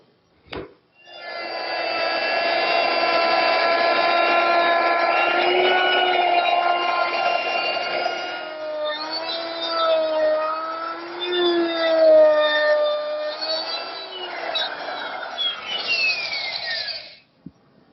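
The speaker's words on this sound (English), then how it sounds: "I'm going to start with my router at one corner and move back and forth until I get to the other corner" A wood router cuts an inlay recess for a toy chest. A sustained high motor whine with steady harmonic tones runs for about sixteen seconds, wavering in pitch as the cutter moves back and forth, then stops abruptly. It is close and loud, with no speech.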